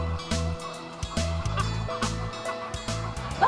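Chickens cluck at close range during egg collection, a busy run of short, repeated low clucks and a few higher calls overlapping one another without pause.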